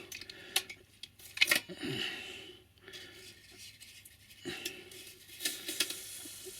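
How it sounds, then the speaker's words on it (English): Woodland Scenics polystyrene foam being cut for a model railway layout, with scattered soft scratchy strokes and short crackling bursts, close and fairly quiet, no talking. "So you can just cut through your polystyrene."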